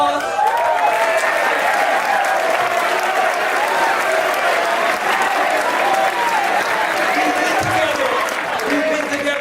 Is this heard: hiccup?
no